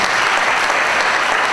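An audience breaks into sustained applause for a guest, a NASA scientist, at a church gathering; a dense, loud wash of clapping that stays even throughout the short burst.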